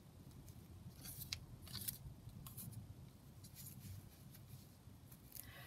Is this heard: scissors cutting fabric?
yes